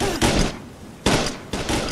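Gunfire in the video game Planet Explorers: three loud, close bursts of rapid shots separated by short pauses.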